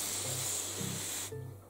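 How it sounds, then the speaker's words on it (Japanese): A pressurized PET bottle sprayer misting water over seedlings, giving a continuous close hiss that cuts off abruptly near the end, with faint low hums in the background. "このスプレーのやつね、 これをね、 空気シュッシュってやると中に圧がたまるわけさ、ペットボトルの中に。"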